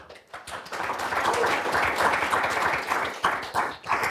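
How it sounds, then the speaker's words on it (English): Audience applause at a research center's annual event honoring a retiring staff member, dense steady clapping from a room full of people, sustained for several seconds with a brief dip before continuing. "we will maybe give applause for each group"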